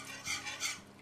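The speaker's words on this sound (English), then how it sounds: "You stir that in." Beaten egg stirred into hot and sour soup in a pot, giving two soft, quiet swishing strokes in just over a second, close and alone.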